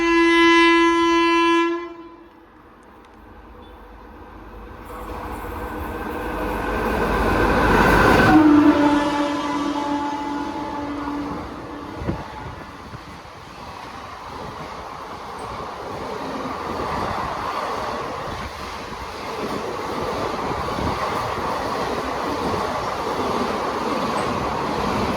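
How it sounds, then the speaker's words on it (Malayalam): A Mangalore Central Intercity express hauled by a Kavach-fitted WAP7 electric locomotive sounds a long, loud horn at Ezhimala, then rumbles past close by as the coaches roll through in a sustained, heavy roar. "Mangalore central intercity 226/10 number WAP7 Kavach integrated ആയിട്ടുള്ള അതിൻ്റെ പെയറിംഗ് ട്രെയിൻ ഇങ്ങോട്ട് വരുന്നുണ്ട്"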